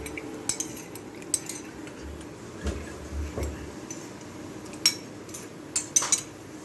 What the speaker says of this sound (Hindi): ये आस्ता आस्ता इसको अच्छी तरह मिक्स करना था दूध गाढ़ा होने तक